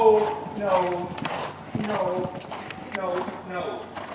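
Horse hooves thud in a steady walking rhythm on the footing of a riding arena during a riding lesson, close and clear, while an instructor's voice talks over them throughout.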